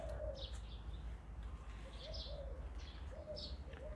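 Birds call faintly in the distance, short repeated coos and chirps spaced across a soft, steady background hum.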